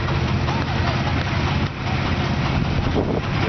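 CASE 110 hp steam traction engine running at a farm show on a former air force base in Illinois: a steady, loud low rumble with chuffing texture and wind noise, continuous throughout without pause.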